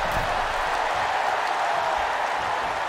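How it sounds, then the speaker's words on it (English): A capacity crowd at a WWE Raw wrestling arena roars and cheers in a steady, dense wash of noise with no breaks. "you hear this capacity crowd following you on that journey"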